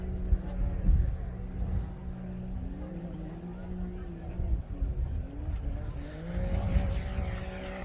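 The No. 23 Black Betty race car, driven at the Gundy 500, runs through the stadium section, its engine droning and rising and falling in pitch at moderate distance.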